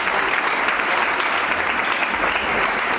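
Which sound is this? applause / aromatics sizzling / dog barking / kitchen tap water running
applause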